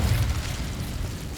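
Incendio fire spell in Hogwarts Legacy, a short, low, rumbling whoosh of flame burst with no voices, fading slightly over about a second.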